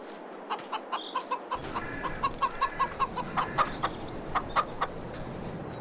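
Video-game chickens in Farming Simulator 22 cluck in a steady run of short, repeated calls, fairly close, with a faint high chirp near the start and no talking.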